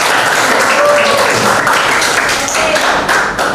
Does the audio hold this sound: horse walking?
no